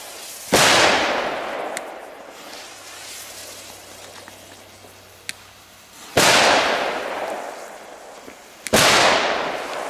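Small Muggenscheetjes firecrackers go off outdoors as three sharp, loud bangs spread over several seconds, each followed by a hissing, crackling tail and quieter pops in between.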